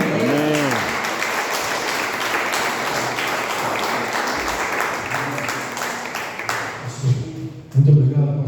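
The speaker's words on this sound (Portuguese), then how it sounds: "e as palmas para o Senhor Jesus" Church congregation at a Baptist church anniversary service applauding in praise of Jesus: sustained dense clapping from a large crowd, with a brief spoken phrase at the start and voices rising near the end.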